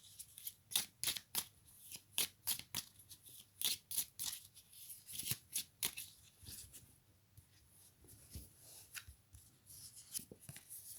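Tarot cards are shuffled and drawn in a quiet room, a series of crisp, close riffling and slapping bursts spaced irregularly with brief pauses between them.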